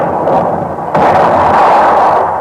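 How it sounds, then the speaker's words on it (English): An artillery shell explosion as a 1940s radio sound effect, a dense rumbling roar with a sharper burst partway through, loud and sustained for a couple of seconds with no voice. "Now, when a shell explodes,"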